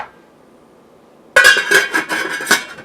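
A lid clanks onto a pot of chili from a 1980 Arizona cookbook recipe, set to simmer; after a second of near silence comes a sharp metallic clatter followed by a few rattling, ringing settles.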